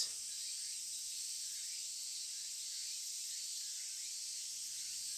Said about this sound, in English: the keening of cicadas eats at me. The cries of the cicadas.